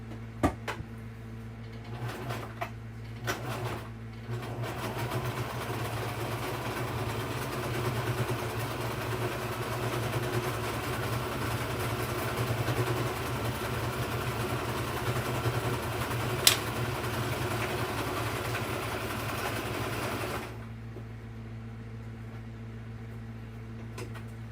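A sewing machine running steadily for about sixteen seconds, a continuous mechanical hum and whir that starts after a few clicks and stops abruptly.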